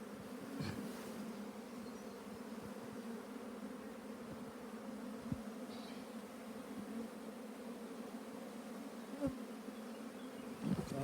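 Honey bees swarm out of an opened hive colony, a steady dense hum close by. A few sharp knocks and clicks break through the buzzing.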